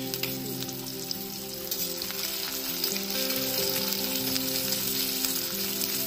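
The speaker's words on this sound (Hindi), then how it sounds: "1 प्याज है छोटे टुकड़ों में कटा हुआ, इसको डालकर के फ्राई करेंगे।" Small chopped onion frying in hot oil with a couple of pinches of asafoetida and chopped green chili, a steady, loud, even sizzle and crackle heard close and alone throughout.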